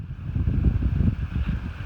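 Strong outdoor wind buffets the microphone beside a kayak on a sand kayak cart, a loud continuous rumbling roar that surges and dips with the gusts, with no voices.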